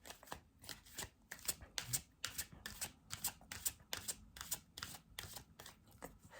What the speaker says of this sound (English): I will pull one card.